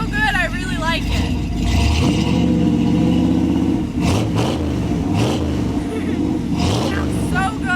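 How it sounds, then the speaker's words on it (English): A 1966 Chevy truck engine revs loudly up close, throaty surges rising and falling over a steady rumble, with people talking over it. "I said my truck sounds so good, I really like it."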